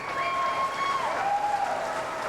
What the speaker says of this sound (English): Crowd appreciative of a very good rack at a tough time.